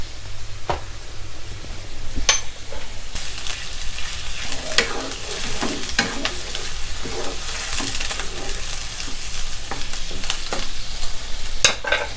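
Marinated pork with light and dark soy sauce hits a very hot wok and fries hard, a loud continuous sizzle broken by scraping stir strokes and clattering utensil knocks, close up and without talking.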